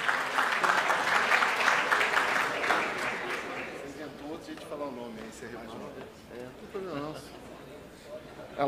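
Audience applause at a corporate investor meeting, a dense round of clapping that fades out midway as a presenter begins speaking.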